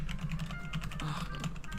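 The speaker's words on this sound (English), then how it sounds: "What's he typing?" Keystrokes clatter on a computer keyboard during a podcast recording, a quick, steady run of close taps over a low background hum.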